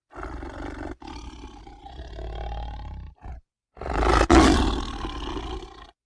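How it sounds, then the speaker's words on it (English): A tiger in the jungle at night growls low and rumbling, then breaks into a loud, defiant roar, with a brief gap before the roar swells and fades, close and powerful. "a low, gurgling growl, which gradually increased in volume till it became a defiant roar"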